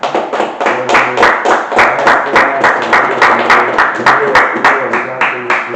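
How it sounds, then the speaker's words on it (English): Audience applause at a live in-person interview, with loud, steady clapping from a crowd rolling on throughout, with individual hand claps standing out up close, and no talk over it. "let's give a round of applause"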